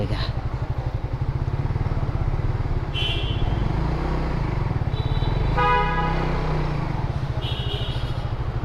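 Motorbike horn honking inside an airport, several short beeps over a steady close engine drone, with a voice talking.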